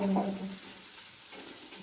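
Fenugreek greens (methi) frying in a pan, a brief stirring scrape and sizzle that is loudest at the start and then settles into a low, steady hiss.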